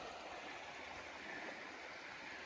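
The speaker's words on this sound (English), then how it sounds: "River goes down that way. Pretty good sized river." The Wild River at Evans Notch, a fairly large river, rushes steadily past in a continuous broadband wash of flowing water, faint and unbroken, with no voices over it.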